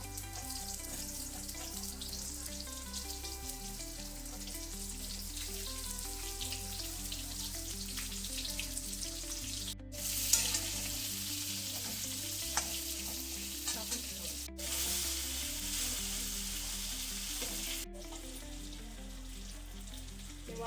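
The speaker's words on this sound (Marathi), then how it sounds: "पूर्ण वांगे तेलात हे करून घेते." Whole eggplants fry in hot oil, giving a steady close sizzle with scattered crackles and a few sharper clatters, continuing without speech for about twenty seconds.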